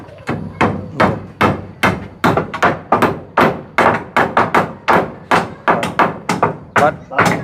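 Nails driven into dry, hard wood with a hammer, a series of about twenty sharp, close blows in an uneven but steady rhythm.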